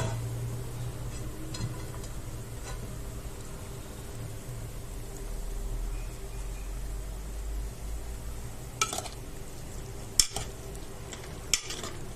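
Vegetables and sauce simmering together in a pan, a low steady bubbling hiss that stays quiet throughout, with a few sharp clinks of a utensil near the end.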